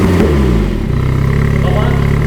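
A 2021 Alpine A110 Légende GT engine given a light blip of throttle, a loud close rev that settles into a steady, throbbing burble with a voice briefly over it.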